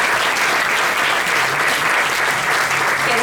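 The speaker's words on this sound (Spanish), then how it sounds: "Así que fuerte el aplauso nuevamente." An audience at a conference breaks into loud, dense applause that fills the whole clip, with steady clapping and no pauses.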